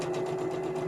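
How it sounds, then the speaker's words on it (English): Sewing machine running at top speed after bobbin winding while stitching a laptop pouch, a brief steady high-speed hum with a constant tonal whine and rapid even pulsing, heard alone. "I had to wind a bobbin, so it was on super fast"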